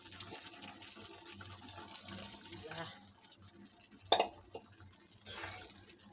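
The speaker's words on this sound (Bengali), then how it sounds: "ওই জন্য আর একটু হালকা পানি দিই।" Water is splashed into a pot of simmering chickpea dal, a soft close gurgle and trickle under a low background hiss, with one sharp clink of a utensil partway through.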